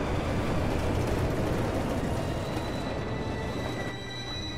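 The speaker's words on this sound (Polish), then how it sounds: "Zobacz metro." A subway train rumbles past in the video game The Darkness 2, a loud, continuous roar of wheels and carriages that eases off slightly toward the end, with faint squealing and no talking.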